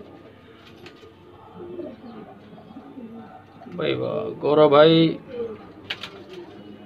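Jaaldar pigeons in a breeding loft let out a couple of close, throaty coos midway, with men chatting quietly nearby before and after.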